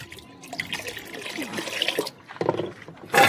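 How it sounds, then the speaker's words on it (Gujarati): A ladle of pani puri water poured into a pot of ragda, a short splashing gush of liquid heard close up, with a brief louder splash at the end. "હવે નાખીશું આપણે પાણીપુરીનું પાણી 1 ડોયો"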